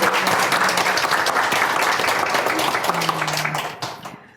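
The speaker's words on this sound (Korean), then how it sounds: "박수 한번 주세요" An audience claps in a steady burst of applause that fades out near the end.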